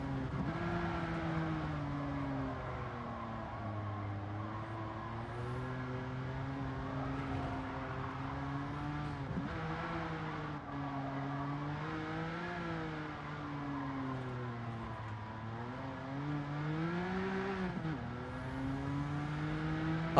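A race car engine in a racing video game drones steadily throughout, its pitch climbing and dropping with throttle and braking through corners, loud and continuous with no talking.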